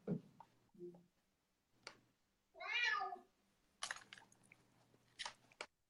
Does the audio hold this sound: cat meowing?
yes